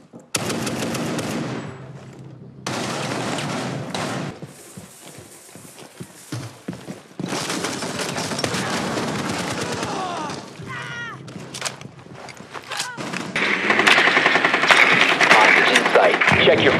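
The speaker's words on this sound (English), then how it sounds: "I was shooting into the depths" Bursts of automatic gunfire from the video game Rainbow Six Siege, played on PC, rattle in rapid strings with pauses between, mixed with in-game effects and voices talking in between.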